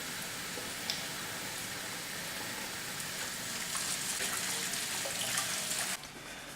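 Water from a running tap splashes steadily over hands being washed, a soft continuous hiss that cuts off near the end.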